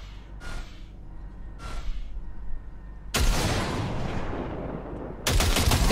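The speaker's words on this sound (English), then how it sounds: "Fire a short burst into it." Automatic gunfire from a weapon in the video game Cyberpunk 2077, with two short muffled shots followed by a loud, dense sustained burst and then another sharp volley, close and dominant.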